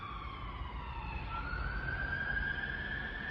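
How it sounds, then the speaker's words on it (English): A police car siren wails from a distance outdoors, its tone sliding downward and then rising again as the vehicle passes, steady and moderately faint over low traffic rumble. "There's a siren in the background."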